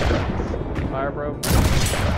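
Ship cannon fire in the pirate naval game Blackwake, loud booming blasts and rumbling battle noise filling the whole moment, with a sharp new blast near the end and players talking over it.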